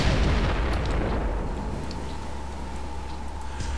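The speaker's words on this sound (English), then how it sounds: "Black Shark Missile! Oh, yeah, I love that." In the Descent 3 video game, the Black Shark Missile weapon sets off a heavy, sustained rumbling blast that fills the clip with dense low roar and slowly fades, loud and close.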